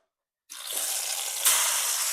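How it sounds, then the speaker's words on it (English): Beef pieces searing in olive oil in a hot skillet give a loud, steady broadband sizzle that starts abruptly, then swells louder partway through, with no voices. "So I got all sides seared, as you can hear it in here"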